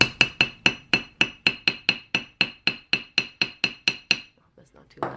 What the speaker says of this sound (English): I'm going to use the brass side of my hammer, and I'm going to hammer the coil